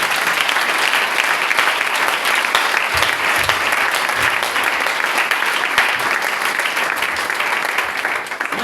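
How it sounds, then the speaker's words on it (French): Church congregation breaking into sustained, loud applause that fills the room steadily from start to finish, dense clapping with a crowd murmur underneath and no pauses. "Est-ce qu'on peut acclamer le Seigneur pour ça?"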